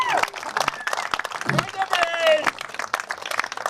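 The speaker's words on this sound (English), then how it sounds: "Please give it a round of applause for the host club." An audience applauds the host club at a bowls tour qualifying event, with clapping spread across the whole stretch alongside a voice speaking over a public address.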